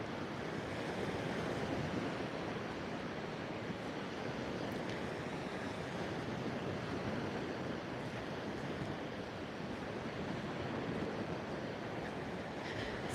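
Ocean waves on a beach roll in a continuous, steady wash of surf, fairly loud and broad with some wind rumble, unbroken for the full length with no talking.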